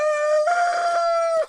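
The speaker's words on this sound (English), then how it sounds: "oh, these chickens." Chickens nearby, one rooster letting out a loud, drawn-out crow with clucking mixed in, heard clearly without talk.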